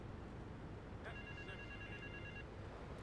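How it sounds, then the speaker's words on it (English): A telephone bell in Grand Theft Auto III rings in a short electronic trill, fairly quiet over a steady background hiss, then stops. "There's a phone ringing. Where is it?"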